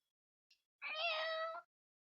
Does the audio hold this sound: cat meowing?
yes